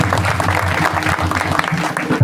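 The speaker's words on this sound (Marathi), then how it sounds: "आणि खरंच आमच्या माता होण्यासाठी एका जोऱ्यात टाळ्या वाजवल्या." Audience applause from a gathered crowd at a spoken event, steady clapping sustained throughout at fairly even loudness, dense and close.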